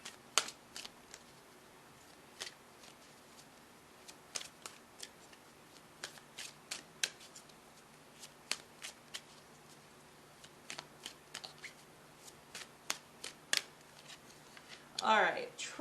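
A deck of reading cards is shuffled in scattered, sharp riffling clicks spread across a quiet background, with a brief louder flurry at the end.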